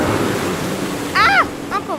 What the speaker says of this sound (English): Ah! Uncle Rad, you splashed me!